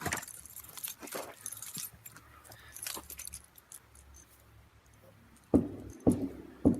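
Keys jangle and clink in a few loose bursts at close range, with a vehicle idling faintly underneath and louder handling clatter toward the end.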